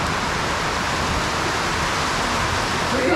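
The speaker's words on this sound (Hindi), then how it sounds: "I have reached to the bike point, but it's pouring. It's raining very heavily." Heavy rain pours down steadily at a bike stop near Malana village in Himachal, a dense unbroken hiss that stays loud and even throughout.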